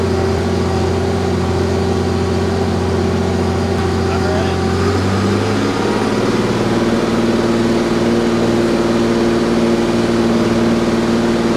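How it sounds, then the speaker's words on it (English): Allis Chalmers 210 tractor pulling a disc across a farm field, its engine droning loud and steady under load with boost, the pitch shifting about midway as the engine works harder, the drone continuing throughout. "We're making more boost at the same RPM, and so it's definitely working it harder."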